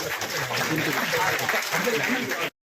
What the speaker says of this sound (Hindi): यहाँ उनके सम्मान भरपूर तालियों के साथ तालियों में कंजूसी मत कीजिएगा